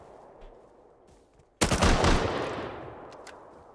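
Sustained burst of automatic turret fire in the survival game Rust, erupting loudly and abruptly after a stretch of quieter ambience, then rattling on and slowly fading over a couple of seconds.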